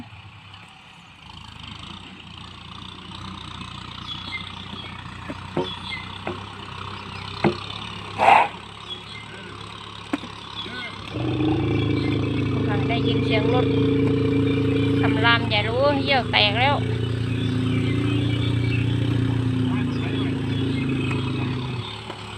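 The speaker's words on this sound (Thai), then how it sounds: "นี่ค่ะรถไถ รถไถมาก็เป็นอย่างนี้แหละ" A plough tractor engine drones steadily, growing louder and closer midway, with people talking over it and a high elephant call briefly cutting through.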